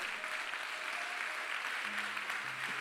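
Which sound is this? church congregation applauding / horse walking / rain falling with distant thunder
church congregation applauding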